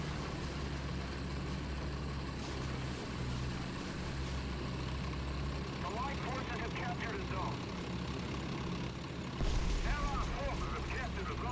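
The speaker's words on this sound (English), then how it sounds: "Enemy jet screaming along there." An enemy jet roars past in War Thunder as a dense, continuous engine rush that swells suddenly louder near the end.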